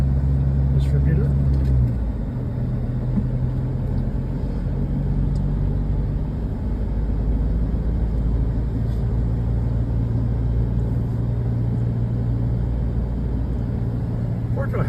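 A car rolls through the streets of Puerto town, giving a low, continuous engine and road rumble from inside the cabin, steady and moderately quiet with a slight shift in tone early on.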